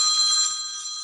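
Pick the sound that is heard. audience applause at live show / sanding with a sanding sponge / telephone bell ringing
telephone bell ringing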